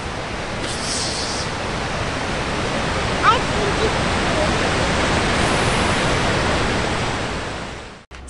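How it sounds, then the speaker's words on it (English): Niagara Falls thunders in a loud, continuous broadband roar of falling water that holds steady for several seconds before cutting off abruptly. "Amy, what do you think of the big waterfall?"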